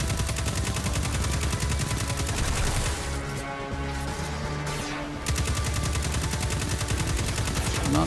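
Auto rifle gunfire in the shooter game Destiny 2, played as a Titan, crackling in sustained rapid bursts that run almost continuously, with a short lull in the middle before the shooting resumes at full loudness.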